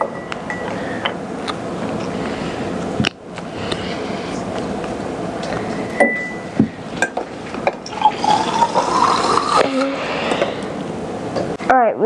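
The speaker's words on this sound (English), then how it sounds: "we're going to fill the syringe with 75 millimeters of water" Water pushed from a syringe into a test tube in a slime kit, heard as close liquid trickles and gurgles with faint glassy taps over steady background hum.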